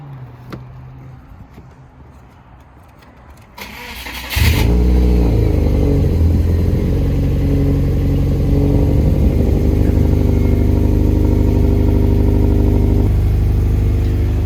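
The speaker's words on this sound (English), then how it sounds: "Give her a start up." A Subaru Legacy with a built engine cranks over, catches and settles into a loud, rough, rumbling idle with a few blips of revving, close by after quiet background moments.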